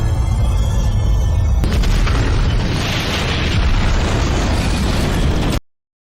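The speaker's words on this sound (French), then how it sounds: "Nos survivants s'échappent du CDC juste à temps pour se mettre à l'abri de la déflagration de l'explosion" A massive explosion erupts with a deep, rumbling blast that roars loudly for several seconds before cutting off abruptly.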